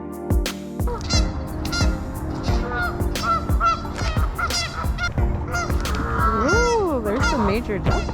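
Geese and ducks on an outdoor nature walk honk and squabble over one another in a loud, busy chorus, with overlapping calls, rising and falling honks and a persistent background of flock noise.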